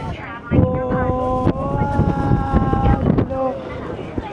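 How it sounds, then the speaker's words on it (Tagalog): Strong wind in Hong Kong rumbles and buffets a microphone continuously, with tonal hums and a voice talking intermittently over the roar. "Ang lakas ng hangin."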